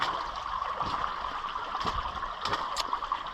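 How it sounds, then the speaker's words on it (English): Water runs steadily down a large waterfall at a gold mining site, a continuous trickling, gurgling rush of moderate loudness with no talk. "The massive waterfall up the top of this one."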